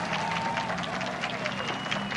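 A crowd claps in Central Park, a steady, dense patter of many hands heard close and fairly loud, with talking mixed in.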